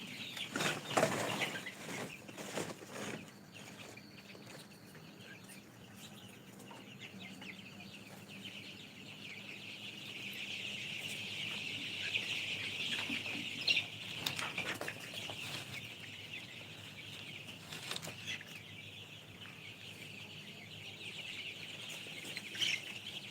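A flock of chickens on a poultry farm clucks continuously for over twenty seconds, with occasional wing flaps and small bird chirps in a busy, moderately close background.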